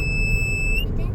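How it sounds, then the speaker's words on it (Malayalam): A driver drowsiness alert device sounds a loud, steady high-pitched electronic beep for under a second before cutting off, close to the listener. "അന്നേരം അലാറം അടിക്കും."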